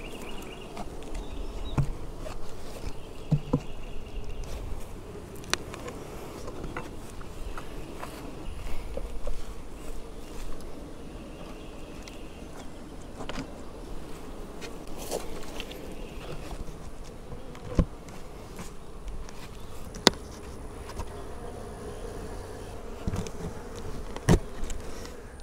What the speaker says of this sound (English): I got most of the bees shaken out of those boxes back into this weaker hive